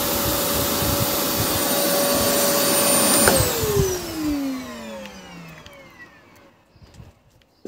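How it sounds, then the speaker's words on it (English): A 900-watt vacuum cleaner running on vehicle-to-load power from a Kia Niro EV, whining steadily and loudly, then cutting out and spinning down with a falling pitch until it fades to near silence. "It's very strange because the vacuum is only 900 watts."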